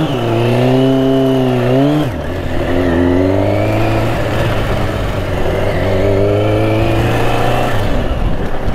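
A Kawasaki Ninja 636 sport motorcycle on its first ride revs hard and close, its engine pitch climbing, dropping sharply after a gear change, then holding a steady high drone before settling again.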